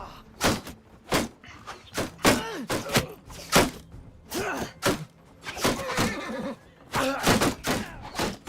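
Horse neighing and whinnying in the medieval combat game Mount and Blade II: Bannerlord, several loud, sharp bursts repeating across the clip alongside thuds and clattering.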